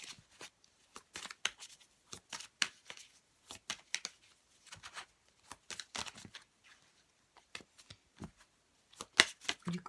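Tarot cards are shuffled for a reading in a quiet room, a series of crisp riffling and slapping bursts in uneven clusters, close and fairly soft, separated by short silent gaps.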